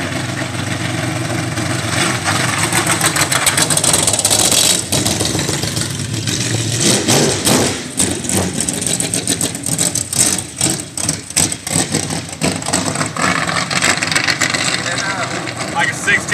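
A truck's engine idles and then revs hard as the throttle is opened, loud and close, with rising surges through the middle and people talking over it.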